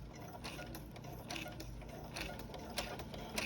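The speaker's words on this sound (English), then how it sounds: "lower your presser foot, and just hold this out here and start sewing" A sewing machine stitches fabric during a beginner lesson, running at a steady even pace with a continuous mechanical whir and rapid rhythmic clatter throughout, close and alone with no talk.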